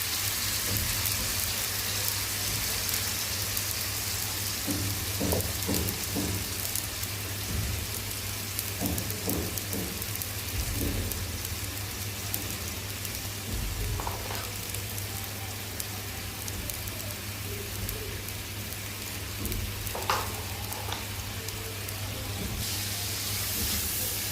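Spices, rohu fish and potatoes frying and sizzling in a pan, a steady bright hiss throughout with occasional louder spits and crackles, close by and with no one talking.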